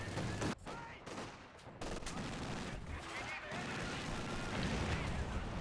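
Machine gun fire rattles through a Company of Heroes 2 battle. Dense bursts of gunfire and explosions keep the noise continuous and heavy for several seconds, with no clear break.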